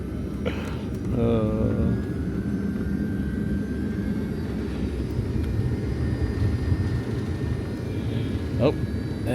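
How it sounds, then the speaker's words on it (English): A fixed-wing airplane takes off from an airport runway, its engine roar a broad, steady rumble heard from a distance beneath a passing voice and wind noise. "there goes another plane taking off"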